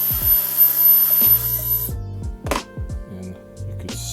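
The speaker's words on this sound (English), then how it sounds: "And then I would blow it off with my little WOLFBOX here." A WOLFBOX electric air duster whirs in short bursts, blowing debris off a 3D printer extruder gear, its motor pitch rising and falling with brief stops and restarts, close up.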